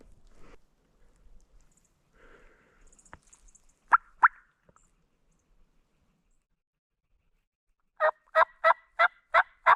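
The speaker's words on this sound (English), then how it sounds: "So I heard a gobble down in there." A wild turkey gobbles in spring woods, a couple of sharp calls midway and then a rapid run of five or six loud gobbling pulses at the end, with quiet outdoor background between.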